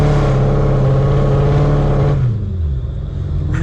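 Dodge Charger SRT Hellcat launching hard at night, a loud close engine roar holding steady under full throttle, then dropping in pitch as it shifts, with revs climbing again at the end.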